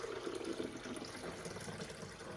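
Water is poured into the back reservoir of a coffee maker, a faint, continuous splashing trickle with no talking.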